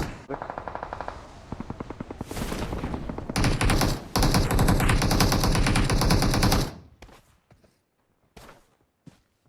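AK rifle fire in PUBG Mobile: rapid automatic bursts, loud and close, with sustained sprays giving way to a few sparse single shots and quiet gaps near the end.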